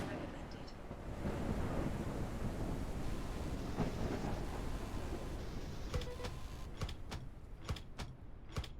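A thunderstorm rumbles in the survival game Forever Skies, a broad, roaring wash of wind and thunder that fades toward the end, where sharp clicks cut through the quieter tail.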